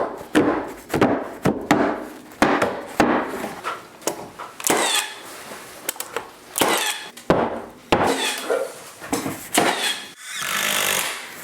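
Box beam being jammed into place during framing, a series of loud, sharp knocks and bangs in an irregular rhythm with scraping wood noises between hits, close by.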